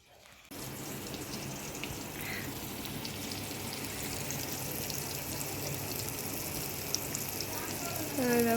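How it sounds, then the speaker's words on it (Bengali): Sliced pointed gourd frying in a hot karahi gives a continuous, fairly quiet hiss and crackle that holds evenly, growing slightly louder near the end. "পটল ভাজা বসিয়ে দিয়েছি এখানে পটলটা ভাজা হচ্ছে"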